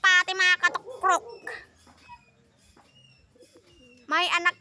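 A domestic pigeon cooing close by, several bursts of throaty coos at the start and again at the end, separated by a quiet stretch with faint background sounds.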